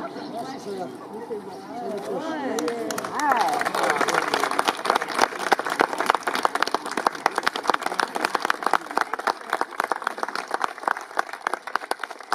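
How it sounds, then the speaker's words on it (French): Audience applause at the inauguration of a music venue, starting after a few seconds of voices and then swelling into dense, sustained clapping from a sizeable crowd that keeps going to the end. "Applaudir une deuxième fois"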